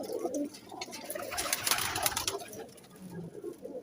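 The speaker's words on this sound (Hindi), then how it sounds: "ये देखिए ये सब टैडी कबूतर है माशाल्लाह, एक से बढ़कर एक है।" Teddy pigeons in a breeder's loft give soft, low cooing calls that rise and fall in a short, fairly quiet burst.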